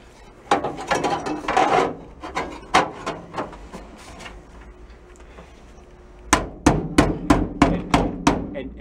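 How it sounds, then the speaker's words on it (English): Hammer taps on the rolled corner of a sheet metal patch during beginner metal fabrication: an earlier cluster of scraping, rubbing handling, then from about 6 s a run of six or seven sharp, evenly spaced metallic taps close by. "just give it a couple of taps right there to take a little bit of that roll out"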